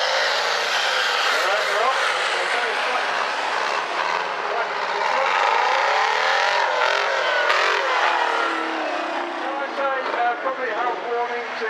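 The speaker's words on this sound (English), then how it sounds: "These are quite loud. And they do, especially Big Girl. The Detroit diesel does scream" A loud International tractor fitted with a Detroit diesel engine runs steadily at a vintage rally, its harsh, screaming engine note continuous and close throughout, with faint crowd chatter underneath.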